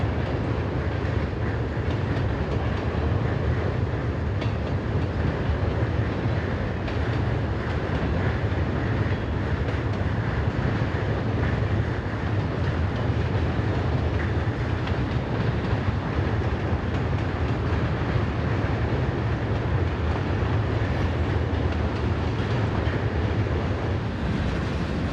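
A freight train rolls past on a railway near the St. Croix and Mississippi rivers in Minnesota, a steady, loud rumble with wheel clatter and rail noise holding for the whole stretch, with no voices.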